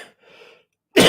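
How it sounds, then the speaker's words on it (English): A single loud cough bursts close into a microphone near the end, preceded by faint breathy throat sounds and a short silence. "Sorry, I coughed in the microphone."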